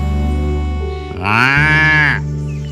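A buffalo in a cartoon farm setting lets out one long, rising moo, loud and close, over a steady music bed.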